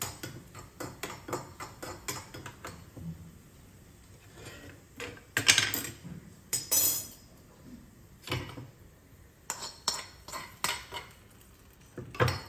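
Fried nuts and raisins tipped into a pot of makhana payasam, with repeated metal spoon clinks and scrapes against the vessel as it is stirred, close and moderately loud in irregular bursts.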